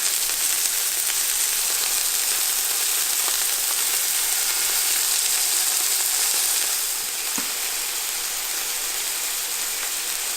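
Scallops sear in a hot pan beside blistered tomatoes, giving a steady, dense sizzle that holds evenly for the whole stretch and eases slightly near the end, with no voices over it.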